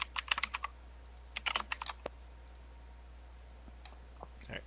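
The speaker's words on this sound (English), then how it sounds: "Stefan, you've been muted because your keyboard was driving me crazy" A computer keyboard typed on loudly during an online call, with quick clustered bursts of clicky keystrokes and a few isolated taps, close and alone over a low electrical hum.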